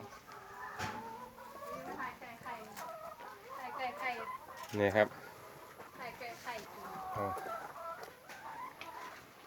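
Several laying hens cluck and squawk nearby in irregular bursts, with one loud flurry midway, while someone speaks briefly in Thai.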